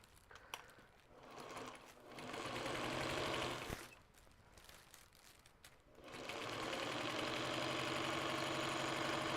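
Sewing machine stitching a quilt-as-you-go project bag with a Teflon foot, a steady mechanical whir that runs, pauses briefly around the middle, then resumes loud and continuous to the end.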